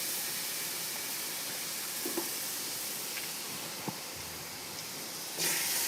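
Lamb shank pieces browning in a pan of butter and oil, giving a steady close sizzle and hiss that runs throughout, with a few faint clicks of the pan.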